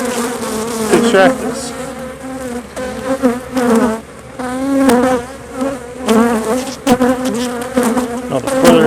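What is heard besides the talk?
honeybees buzzing around hive frame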